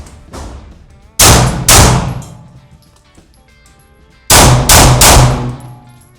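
Real gunshots ring out at close range during a weapon-mounted light shooting drill: two loud sharp reports, a pause, then three rapid shots, with no talking.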